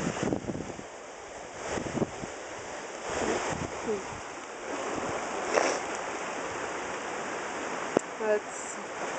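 Floodwater rushing through a swollen Wisconsin creek and pouring under a road, a steady broadband roar that swells and eases, with wind buffeting the microphone throughout.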